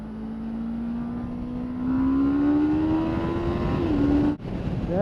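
A car accelerating hard in second gear, its engine note climbing steadily and loud up close before a brief drop as the throttle lifts near the end.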